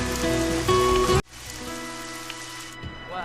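Steady rain hisses down in a city setting near a mall, a dense continuous patter behind a brief louder swell at the start, then settling into an even wash with no voices.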